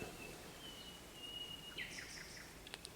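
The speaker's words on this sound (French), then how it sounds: "c'est un oiseau" A faint bird in a funerary chapel gives a thin, steady whistled tone, then a brief flurry of quick chirps near the end over a quiet, hissy background.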